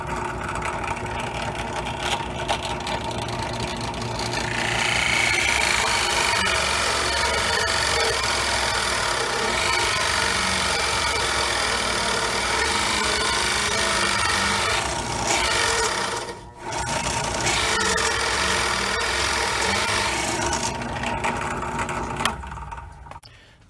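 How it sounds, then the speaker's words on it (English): A power drill bores hole after hole in a wood block in a workshop, a continuous loud whirring and grinding that holds steady for about twenty seconds with one brief dip before winding down. "turn everything on, put this in, and drill hole after hole after hole very quickly"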